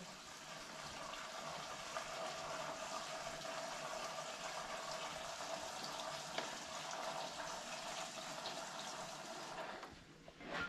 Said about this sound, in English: I just can't pour it fast enough for it to not drip because small funnel.